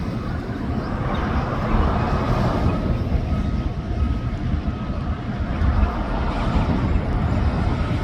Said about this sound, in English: we got a train going by back there